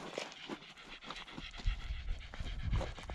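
Several tired dogs pant steadily at close range on a hike near Butterfield Stage Stop, with quick rhythmic breaths and faint rustling, no talk.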